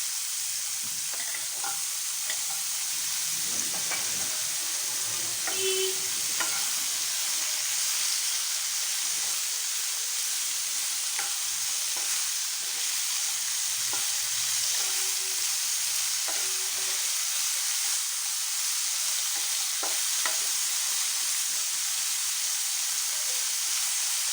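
Homegrown bitter gourd and potatoes fry in a pan under a constant bright sizzling hiss, while a utensil scrapes and taps now and then to stir them, close and steady throughout.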